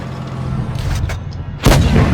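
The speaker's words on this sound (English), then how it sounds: "Put in an HE round into that turret" A tank cannon fires an HE round in World of Tanks Blitz: a loud, close boom hits near the end and lingers, after a rumbling engine drone and a couple of softer thuds.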